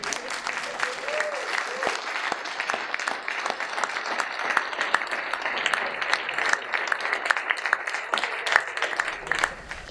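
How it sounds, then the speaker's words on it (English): Sustained audience applause at a conference session on permitting a new solid waste management facility in California, a steady dense clapping from a room of people lasting throughout, with faint voices mixed in. "Thank you for the applause for these people."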